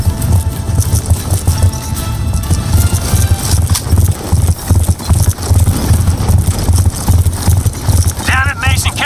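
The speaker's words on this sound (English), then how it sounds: "Damn it, Mason, can't that horse go any faster?" Rhythmic hoofbeats of a galloping horse pound steadily under loud game music and effects in Call of Duty: Black Ops 2, with a brief whinny near the end.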